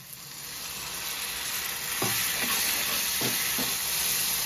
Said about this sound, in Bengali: এবারে অল্প অল্প জল দিয়ে কষাবো।